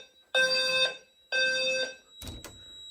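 Fire alarm sounding during a building system test, two loud electronic tonal blasts about a second each, followed by a short clunk, in an otherwise quiet hallway.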